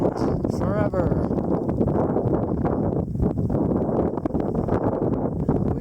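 Wind rushes steadily across an open cheatgrass field in dry lowlands, a constant close buffeting roar with rustling texture, while someone talks over it.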